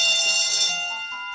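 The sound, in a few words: school bell in the USA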